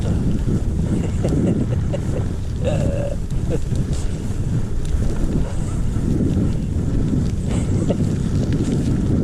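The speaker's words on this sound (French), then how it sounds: "Il faisait bon là, puis un vent là." Strong cold north wind roars and buffets the microphone in heavy continuous gusts, a loud low rumble with rushing hiss on top.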